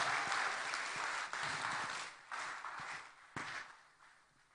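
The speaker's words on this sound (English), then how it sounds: "A bigger round of applause, ladies and gentlemen, for our amazing champions." A conference crowd applauds the champions in a loud, sustained roar of clapping that surges in a few waves before slowly tapering off near the end.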